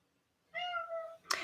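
A house cat gives one drawn-out, clear meow close by in a quiet room, followed by a brief, sharper second call.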